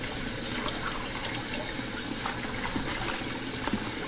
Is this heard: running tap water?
yes